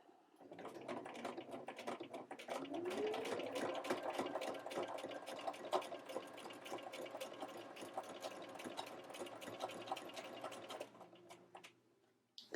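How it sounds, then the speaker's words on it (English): A sewing machine runs a steady straight stitch with an edgestitch foot and the needle shifted far left, a continuous mechanical whir with fine rapid ticking that holds for about ten seconds before stopping. "I'm going to straight stitch with my needle pushed as far over to the left as I have space for it to go"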